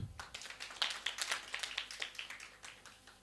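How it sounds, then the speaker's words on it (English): A small crowd claps at a childcare community learning forum, a quick burst of scattered hand claps that swells briefly and then thins out over a few seconds, faint and somewhat distant. "Ladies and gentlemen, another clap."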